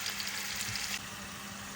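Shrimp fry in hot oil while being stirred, giving a soft continuous sizzle with faint scraping, fairly quiet and even throughout, no voices.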